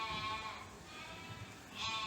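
Dairy ewes raised for Roquefort milk bleat on a sheep farm, their overlapping calls forming a steady flock chorus that swells again near the end, with no talking.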